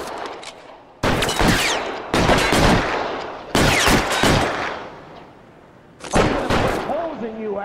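Gunfire in the video game LA Noire: several loud bursts of shots in clusters, with sharp impacts and ringing between volleys, under some game voices.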